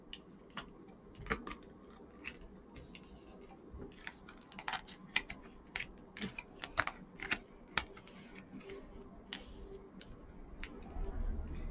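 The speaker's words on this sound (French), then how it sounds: "Ensuite, vous tournez les cartes. Vous les mettez comme ceci." Petit Lenormand cards are turned over and laid out one by one in rows, giving a run of light, crisp ticks and taps that come irregularly and close up, with no talk.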